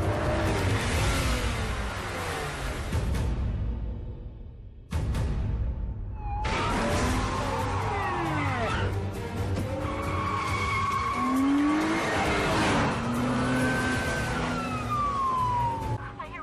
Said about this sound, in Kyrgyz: Анан да машина жүрүп баратат.